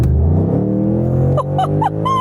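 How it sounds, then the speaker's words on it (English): A Ford Mustang Mach 1 engine revs at full throttle in sport mode, rising in pitch as it pulls hard through the gears, loud and close. Quick upshift breaks come near the end. "Sport Plus, gearbox into sport, and let's floor it."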